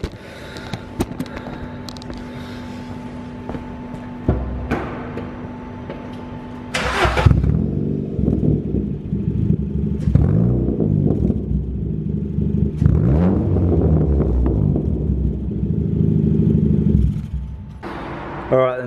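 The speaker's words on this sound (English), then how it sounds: "There's the new Hornet Sports exhaust back box. Let's start it up so you can hear it." A Ford Fiesta MK6 with a Hornet Sports exhaust back box cranks and fires up with a loud burst, then settles into a deep, throaty idle broken by several rising revs, heard close and loud.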